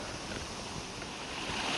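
A small, clear mountain stream flows through a quiet Korean forest on Yongbongsan in Hongseong, giving a steady, close wash of running water with no voices, breaking a little brighter toward the end.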